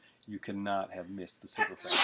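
A person talks, and a single sharp sneeze bursts out right as the speech ends, close and fairly loud.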